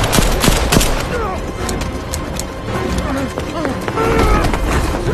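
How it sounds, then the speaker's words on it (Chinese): Gunfire in a disaster film scene comes from a distance as a third person shoots at two people at a doorway, several sharp shots early amid movement and background sound, with speech present. "远处突然出现第三人朝他们开枪"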